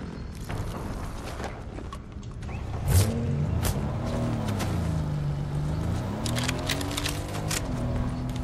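A motorbike engine in Fortnite revs and drones continuously, its pitch rising and falling in wavering sweeps, loud and close with scattered sharp clicks and game effects, no talk.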